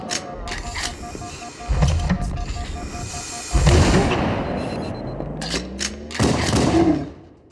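Gunfire in Halo CE: scattered shots and heavier booming bursts from combat on a bridge, heard at moderate loudness in several bursts over a rumbling game soundscape.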